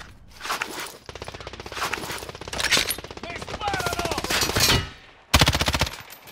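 Rapid, loud machine gun fire in the Call of Duty Warzone video game, dense automatic bursts running almost continuously with brief pauses, near and intense, with faint voice-like chatter underneath.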